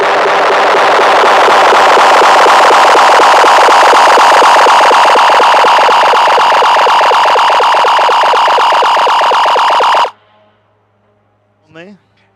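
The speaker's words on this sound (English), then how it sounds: "You can hear that K24 singing through there for BG." A Honda K24 engine in a time attack race car at a World Time Attack Challenge event screams loudly at high revs for ten seconds, then cuts off abruptly, leaving a brief faint sound afterward.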